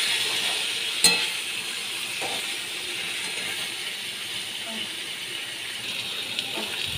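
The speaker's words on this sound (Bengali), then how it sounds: "মাছ দিয়েও আমি ভালো করে কষিয়ে নিচ্ছি।" Rui fish pieces sizzle and are stirred in a pan with potatoes, a soft steady frying hiss with occasional scraping clinks, close but fairly quiet.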